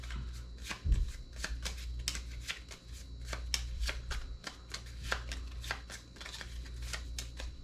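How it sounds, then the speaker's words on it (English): Close, steady shuffling of board game objective cards, a rapid patter of riffled and sliding cards in a quiet room. "These are the objective cards, the searching cards. We'll take this one, okay, and we'll mix these guys up."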